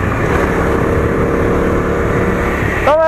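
Bajaj Dominar 250 BS6 motorcycle engine while riding along at moderate speed, a steady close hum mixed with wind rush, then a brief rising whine right at the end; no talk.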